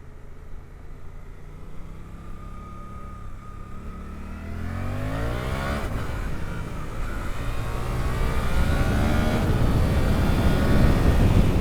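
A Suzuki GSX-8R motorcycle accelerates at full throttle, its engine note climbing steadily in pitch and loudness through the revs, heard close with rising wind noise and no talk.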